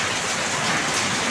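Heavy typhoon rain pours in a dense, continuous hiss, with gusting wind blended into the roar.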